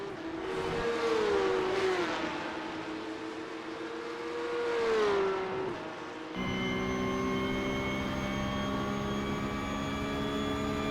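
Porsche 911 Cup (992.2) race car engine in iRacing at Monza, revving and shifting loudly with a wailing pitch that rises and falls, then a steady high-revving drone from the cockpit view, no talking.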